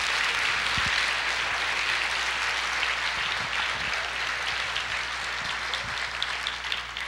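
A church congregation applauds the Lord during a sermon, a steady dense roar of clapping over a low hum, sustained for several seconds.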